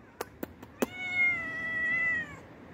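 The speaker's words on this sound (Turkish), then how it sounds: "Güzel pisikan benim." A few soft taps, then a cat gives one long drawn-out meow, close and clear, with no talking.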